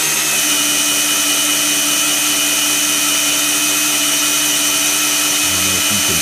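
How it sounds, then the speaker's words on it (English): A drill spins the oil pump of a Chevy 350 engine to prime it, producing a loud, steady mechanical whine that runs unbroken for the whole stretch. "I'm gonna run this drill over here like I said, and it's on the oil pump."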